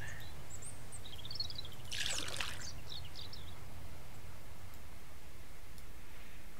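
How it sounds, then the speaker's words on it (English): In the Mist Survival game, water pours into a jug in a brief splashy burst over quiet outdoor ambience, with faint bird chirps before and after. "I've got to grab some more water in that jug"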